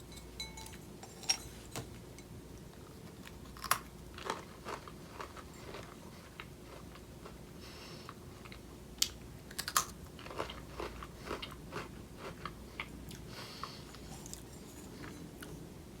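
Biting into and chewing an Oreo Ultimate Chocolate cookie, with close crisp crunches followed by a steady run of small chewing clicks, quiet and alone with no talk.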